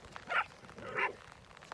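A bull breed and a spaniel playing outdoors in a heavy downpour give two short, fairly close barks about half a second apart, heard over a steady hiss of rain.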